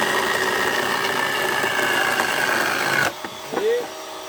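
A Parkside chainsaw revs loudly while cutting Euro pallets for firewood, a steady high-pitched engine whine that drops off abruptly near the end and leaves a brief pause before a short blip.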